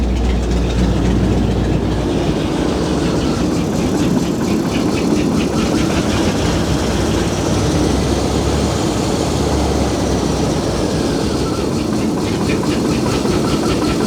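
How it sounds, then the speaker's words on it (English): A big block engine in a first-generation vehicle under restoration runs loud and close with a steady, rough idle rumble that holds unbroken for the whole stretch. "It almost sounds like a motor."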